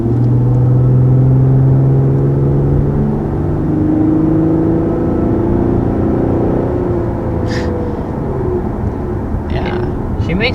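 Lexus GS 350 with a 3.5 liter V6 engine, a loud, steady low rumble and whir from the cabin that swells slightly as the car pulls, with no speech.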